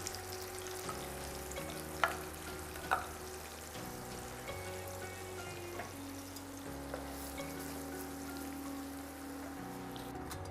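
A paste of onion, tomato, garlic and ginger fries in a pan with whole spices such as bay leaf, for a restaurant-style matar mushroom curry. The sizzle is soft and steady, with a couple of brief clinks, under quiet background music.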